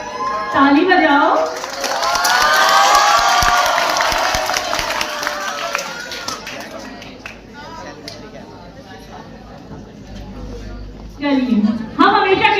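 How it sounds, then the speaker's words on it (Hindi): Audience at a school farewell party, a loud mass of clapping and cheering swelling early and fading out, with a voice on a microphone speaking before and after. "ताली बजाओ।"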